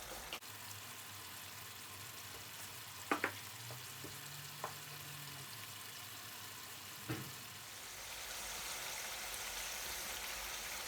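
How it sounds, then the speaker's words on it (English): Garlic chicken madras curry sizzling steadily in a pan at home, a constant frying hiss with a few sharp pops and utensil clinks scattered through, no talking. "Look at it, all splattering everywhere."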